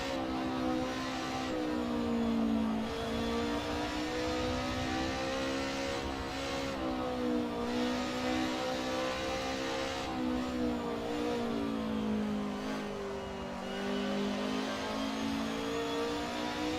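Touring car engines in Assetto Corsa racing at Suzuka drone steadily and loudly, the pitch rising and falling with gear changes and throttle, with no one talking.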